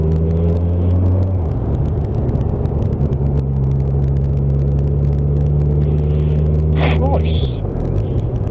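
Yamaha Super Tenere motorcycle cruising in third gear, a steady droning engine hum with a low rumble and a brief shift in pitch early on, loud and close, with wind noise and a short bit of voice near the end.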